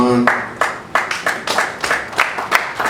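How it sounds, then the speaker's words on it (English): Audience at an economics and power-sector conference clapping in uneven, repeated bursts of a few hands, with roughly rhythmic claps and brief gaps and no steady swell. "please keep the applause going"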